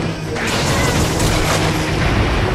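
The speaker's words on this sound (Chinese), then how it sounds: "个爆炸正" A heavy explosion in the Monster Hunter XX video game during a monster hunt with a blunt weapon, a loud booming crash that rumbles and fades over a couple of seconds.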